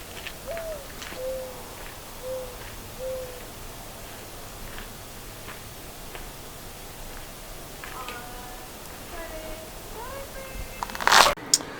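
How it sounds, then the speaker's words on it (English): A mourning dove coos outdoors, several soft, low hooting notes spaced apart in the early seconds, faint and distant over steady background hiss, followed by a brief louder noise near the end. "Somewhere over there, there's a mourning dove."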